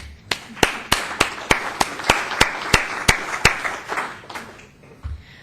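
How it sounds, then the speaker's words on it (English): Sparse clapping from a small audience at a city council meeting, about a dozen distinct, evenly spaced claps ringing in a reverberant chamber before fading out. "I'd like to give them a round of applause."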